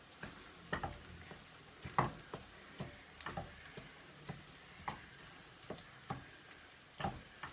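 Minced meat frying in a pan, a faint steady sizzle broken by sharp ticks and scrapes from stirring, quiet and close with no talk.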